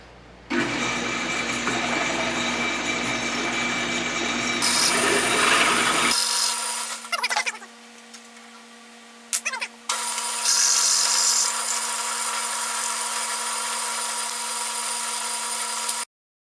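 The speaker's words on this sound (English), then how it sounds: "let's try to drill a 3/8 hole in a 3/8 pipe knuckle" A lathe drills a 3/8 hole through a 3/8 pipe knuckle. Loud, steady grinding and scraping runs for about six seconds and then cuts off, followed by a couple of brief rubbing bursts. The machining then resumes, loud and continuous, until near the end.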